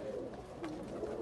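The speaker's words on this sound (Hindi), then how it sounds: "ये टैडी कबूतर है ये जो आप देख रहे हैं" A Teddy pigeon in a breeder's loft gives a soft, low coo, faint and close against a quiet background.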